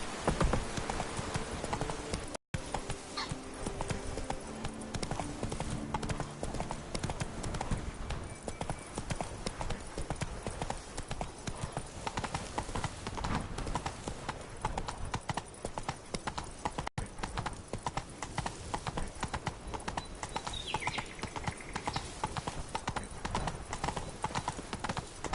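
Roach the horse's hooves clip-clop steadily while riding in The Witcher 3: Wild Hunt, Blood and Wine, a continuous rhythmic trot up close over game music and ambience.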